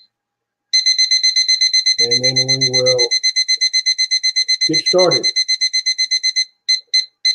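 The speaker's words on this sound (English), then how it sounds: "Let me get over here and set my handy dandy little timer for an hour." A small timer gives a rapid, steady run of high electronic beeps, loud and close, continuing under a voice before breaking into a few short final bursts.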